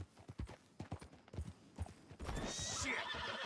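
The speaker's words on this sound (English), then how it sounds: "That's a nice horse." Rhythmic hoofbeats clop along, then a horse in Red Dead Redemption 2 lets out a loud, drawn-out neigh near the end, close and clear.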